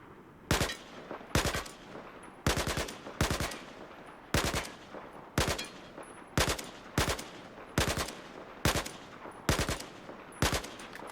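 Automatic rifle fire on the test range in Battlefield 4: about eleven short, loud bursts at a steady rhythm, each a sharp cluster of rapid shots with brief pauses between, close and dominant with no talk.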